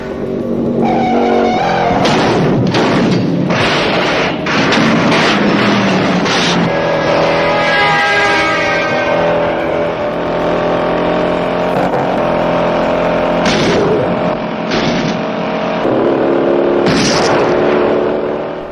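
A Ford Mustang and a Dodge Charger race through city streets in the Bullitt car chase, engines roaring continuously, with tire squeals and revving gear changes throughout, loud and close.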